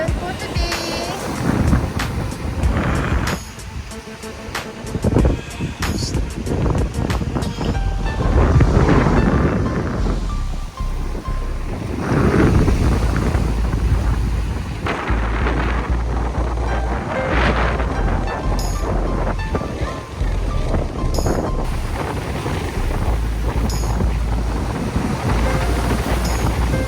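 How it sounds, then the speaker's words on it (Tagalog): Rough sea waves heard from a small boat off Mindanao, with heavy wind buffeting the microphone, repeated surging splashes and hull slaps, and voices calling out over the noise. "Medyo maalon po today."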